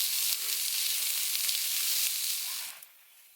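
Meat searing in a pan on a G-Stove in a hot tent during winter camping gives a loud, steady sizzle and hiss that runs close up and then fades sharply near the end.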